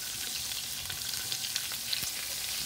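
Onions thrown into a very hot wok for a quick stir fry make a continuous bright sizzle with small crackles and light scraping, close and alone without speech.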